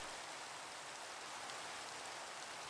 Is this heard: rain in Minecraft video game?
yes